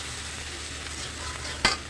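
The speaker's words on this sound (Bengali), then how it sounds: "মশলাটাকে একটু ভাজা ভাজা করে নিব" Steady sizzling of spices frying in a pan without water, with a brief louder scrape of stirring near the end; no voices.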